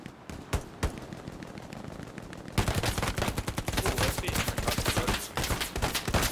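Machine gun fire in the infantry shooter Hell Let Loose: scattered single gunshots at first, then a sustained, dense stream of rapid automatic bursts that runs loud and continuous to the end.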